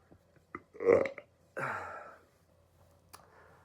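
A person burps twice up close, one deep croaking belch followed by a longer rumbling one, with small clicks and mouth noises between them in a quiet room.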